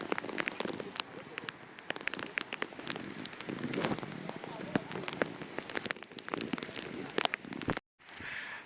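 Dense patter of monsoon rain falling on nearby surfaces during a hill-fort trek at Mahuli Fort, busy and crackly, with a brief dropout near the end.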